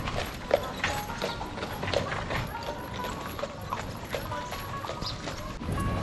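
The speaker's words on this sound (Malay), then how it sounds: "Ni nak kata kuda" Horse hooves clip-clop steadily on a village road in Egypt, a rhythmic series of light knocks under a busy outdoor wash of traffic and ambient noise.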